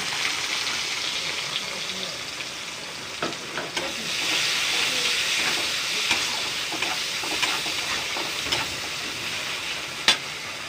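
Finely chopped onion fries in a pan with a continuous bright sizzle and hiss, close and steady, broken by occasional sharp clicks and stirring scrapes.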